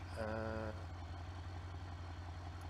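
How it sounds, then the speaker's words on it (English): A built twin-turbo V8 idles in BeamNG.drive, a steady low rumble throughout with a brief higher tonal whine near the start, no speech. "There we go, V8 exhaust turbo twins. We are putting twin turbos on this thing."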